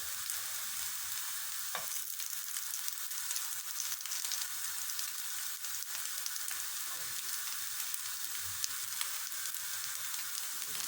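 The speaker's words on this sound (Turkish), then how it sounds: "Az yağla pişirmeye çalıştım arkadaşlar." Food frying in a small amount of oil, with a steady, dense sizzle and crackle that stays at an even level throughout, close by and without any voices.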